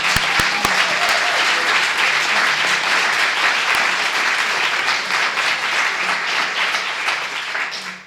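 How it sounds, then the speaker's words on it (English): A large audience applauding a panel at a talk on religion and climate change, dense sustained clapping that fills the room, a few sharp claps at the start, fading slightly at the end. "Let's have another round of applause for our panel as a whole."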